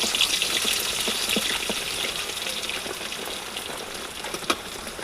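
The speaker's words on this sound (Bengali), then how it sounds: "তেলটা গরম হয়ে গেছে, এবার রসুনটা দিয়ে দেবো।" Garlic dropped into hot oil in a wok sizzles with a steady, fairly quiet hiss and crackle, a small pop near the end, no one talking.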